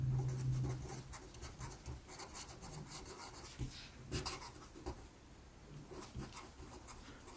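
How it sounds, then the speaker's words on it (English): Pen or pencil writing by hand on paper while working through a math problem, with close, soft scratching strokes that come in irregular bursts and short pauses. "Let me write this down."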